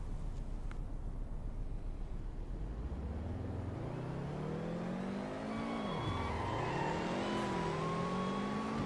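Game car from Roblox Greenville accelerating hard, its engine note climbing steadily through the gears with a dip and recovery mid-way, loud and continuous with no talk.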